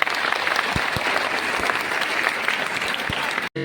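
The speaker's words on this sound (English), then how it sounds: "Can we clap for your own darling parents loudly" An audience at a career guidance event in India claps loudly for their parents, dense steady applause with a few sharp thumps, ending abruptly.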